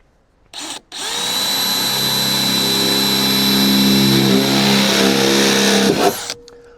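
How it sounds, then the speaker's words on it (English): An electric drill bores through the metal roof of a 38-foot school bus, spinning up with a sharp whine that holds steady and loud for about five seconds before it cuts off abruptly. "let's see if we can drill a couple more accurate holes over here"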